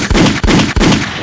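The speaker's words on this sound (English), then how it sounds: "Man, turn my gunshots up" Gunshot sound effects played on a podcast fire three loud, booming, evenly spaced blasts in quick succession, each with a heavy low thud and a short decay, with no talking over them.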